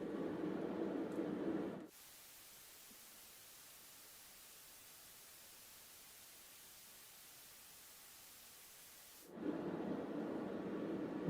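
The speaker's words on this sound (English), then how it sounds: "that sounds like tape hiss" Faint, steady broadband hiss of dither noise, much like analog tape hiss, running alone for several seconds between quieter stretches of other low-level sound.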